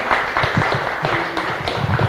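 Audience applause fills a church summit gathering, a steady dense patter of many hands clapping at moderate volume throughout, with no speech over it.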